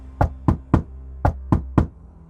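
Six sharp knocks land on a bathroom door in two quick groups of three, close and distinct against a quiet background.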